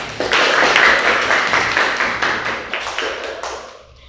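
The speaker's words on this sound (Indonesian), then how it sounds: "Bagus, tepuk tangan." Students in a classroom clap together for a classmate during an Islamic religious education lesson, a brisk burst of many hands that tapers off toward the end.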